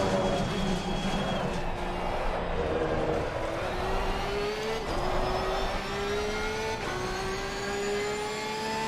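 Race car engine in the sim racing game Assetto Corsa Competizione, at the Kyalami circuit, a steady high-pitched whine that climbs repeatedly through the gears with brief shift breaks, loud and alone.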